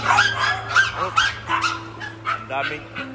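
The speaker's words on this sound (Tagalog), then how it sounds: "Ang daming aso dito." Dogs bark and yip repeatedly, mixed with people talking nearby in a busy, echoing space at Glorietta 4 mall.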